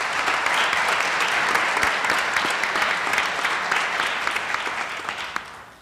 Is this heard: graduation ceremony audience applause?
yes